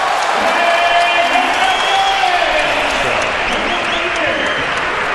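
Crowd at Madison Square Garden cheering and applauding during a second-quarter NBA game, a dense, steady roar that stays loud throughout, with broadcast commentary talking over it.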